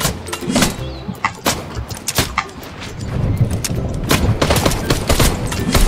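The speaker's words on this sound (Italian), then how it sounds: "Stanno sparando, eh." Rapid bursts of gunfire in the video game Fortnite, sharp cracks and volleys coming in clusters, growing denser and more continuous toward the end, loud and close.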